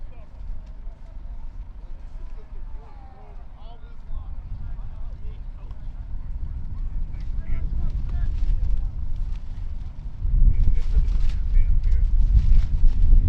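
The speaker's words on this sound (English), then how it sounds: "Seems every time that the Bears are about to punt, we get a lot of wind." Strong wind gusting across an outdoor high school football field, a steady roaring rumble that swells louder near the end, with a commentator talking over it.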